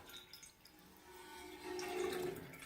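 Water is poured into a pot while making elderberry syrup, a soft trickle that swells into a steadier gurgling stream near the end, quiet and close, with no talking.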